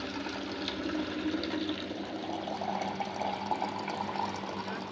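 Water runs steadily into a bottle being refilled in a hostel, a soft continuous pouring rush at low level, with faint voices in the background.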